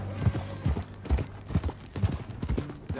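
Rhythmic clip-clop of horse hooves at a steady walking pace in the video game Red Dead Redemption 2, about six paired steps, close and clear with no talking.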